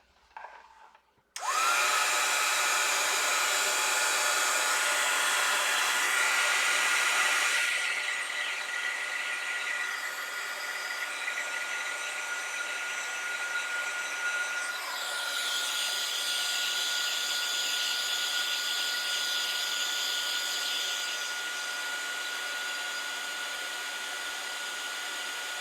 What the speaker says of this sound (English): So now I'm going to heat set it.